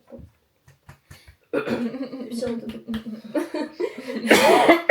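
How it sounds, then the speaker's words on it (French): A few short coughs from people with colds, then a burst of mixed coughing and laughter from nearby people, ending loudest. "des enrhumés, des gens qui toussent beaucoup"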